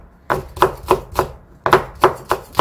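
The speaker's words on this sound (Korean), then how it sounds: "채 썰듯이 얍삭얍삭하니 썰어주세요" Knife chopping Cheongyang chili peppers on a cutting board, two quick bursts of four steady, evenly spaced cuts each, close and crisp with no talking.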